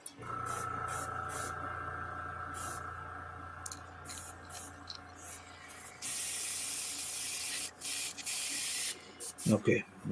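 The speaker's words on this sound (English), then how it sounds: "Clean the airbrush out." An airbrush is cleaned out with bursts of spraying: hissing blasts start and stop several times over a low steady hum, ending with a few clattering clicks; no voice is heard.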